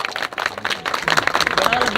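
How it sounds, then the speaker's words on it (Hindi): Audience applause for the actor who played Shakuni Mama in the Shri Krishna serial, at a network marketing event in Prayagraj: dense, steady clapping from a crowd, fairly close, with some voices mixed in. "जोरदार तालियां सर के लिए"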